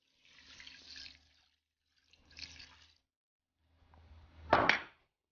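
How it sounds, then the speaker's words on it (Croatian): Water goes into a pot of rinsed sushi rice in short quiet splashy bursts. The third pour ends in a sharper, louder clunk or splash. "dodamo isto toliko vode"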